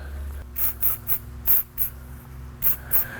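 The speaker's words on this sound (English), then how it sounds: "I have a little bit of silicone spray." Silicone spray from an aerosol can misted onto a new brake master cylinder clamped in a vise on a Chevy truck job, in about nine short hissing bursts of uneven spacing, close and crisp against a faint low hum.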